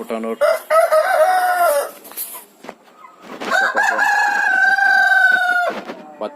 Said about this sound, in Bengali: এগুলো হচ্ছে বাছাইকৃত মুরগ এবং মুরগিগুলা